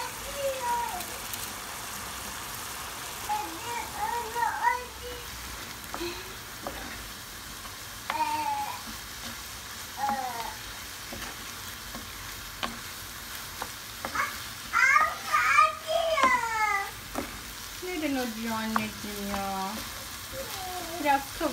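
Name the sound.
food frying and being stirred in pan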